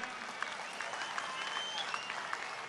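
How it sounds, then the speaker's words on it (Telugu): A crowd at a farmers' scheme launch event in Telangana applauds a speech, dense continuous clapping from many hands at a moderate distance, steady throughout. "మీరు పెద్ద ఎత్తున చప్పట్లు కొట్టాలి."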